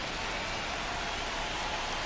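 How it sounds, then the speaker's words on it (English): Steady rain falls in a baseball video game, a dense, even hiss with no breaks that holds at a moderate level across the whole stretch, with no voices over it. "This rain is not letting up."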